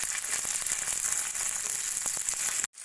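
Thinly sliced onion, beetroot pieces and green chillies fry in a pan with a constant close-up sizzle and scattered pops and crackles, steady until a sudden cut near the end.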